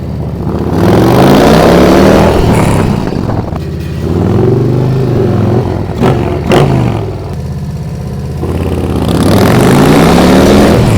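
A motorcycle fitted with a TAB Performance Redline Series exhaust revs loudly up close, rising and falling through several long throttle sweeps with a couple of sharp blips in the middle, a deep roar and no voices.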